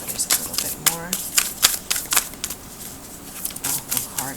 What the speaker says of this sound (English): Shuffle these a little bit more.